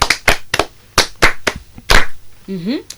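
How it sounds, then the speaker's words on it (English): Applause for a student in a French language classroom, a short burst of sharp, uneven claps from a few people, close and loud, ending with a brief voice. "That's a nice try. Clap for him."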